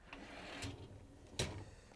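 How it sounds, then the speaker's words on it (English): A GE dishwasher door swings open and the upper dish rack slides out, giving two brief clunks with a soft rattle between, close and fairly quiet. "you can open up the dishwasher door and pull out the upper rack"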